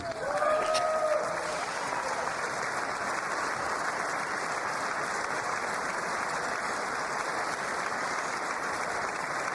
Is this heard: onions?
no